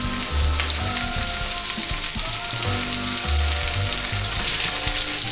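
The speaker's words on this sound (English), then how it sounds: "during that high temp, when you're just kicking it around, the mushrooms are going to first absorb all of the liquid" Halved mushrooms fry over high heat in a pan for beef bourguignon, giving a steady close sizzle with crackling and stirring scrapes, with a low hum running under it.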